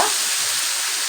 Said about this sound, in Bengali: এবারে আমি একটুখানি জল দিয়ে দেবো এর মধ্যে